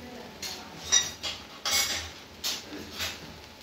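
Spoon scraping and stirring poha with puffed rice (murmura) and salt in a pan over a medium flame, a series of soft rhythmic scrapes and light clinks at close range, with no talking.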